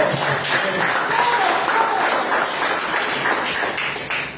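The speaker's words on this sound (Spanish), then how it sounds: "Si van a aplaudir al Señor, apláudelo con todo su corazón." A church congregation claps together in a sustained, even round of applause, loud and dense throughout, with a faint voice and some tones over it, easing slightly at the very end.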